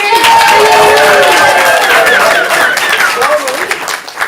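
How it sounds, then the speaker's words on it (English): Loud applause and cheering from a comedy improv show crowd for a team captain, with shouts and voices mixed into the clapping, easing off toward the end. "big applause for Captain Jamie"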